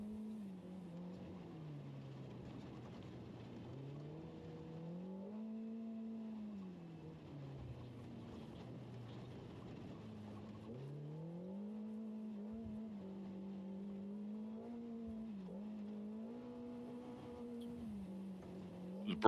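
A rally race car in the NORRA Baja off-road race revs and pulls away at full throttle, its engine climbing and shifting through gears in repeated sweeps, heard from a moderate distance with no talk over it.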